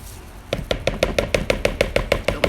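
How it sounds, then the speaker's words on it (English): A spatula scrapes mold material out of mixing cups in quick, evenly spaced strokes, about a dozen sharp scrapes close up and loud, with no talking. "So I'm scraping my cups with my spatula, getting as much of it as I possibly can"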